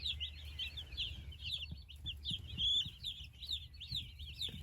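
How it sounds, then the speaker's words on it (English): Young chicks in a chicken coop chirp and cheep continuously in a busy flock, with soft low clucks and faint background rumble underneath. "Chicks are happy."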